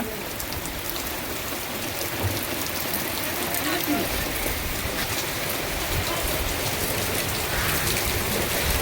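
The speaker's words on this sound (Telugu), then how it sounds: "ఈ వర్షం చూడండి ఎట్లుందో" Heavy rain from Cyclone Montha pours steadily in a dense, continuous hiss, loud and close throughout with no break.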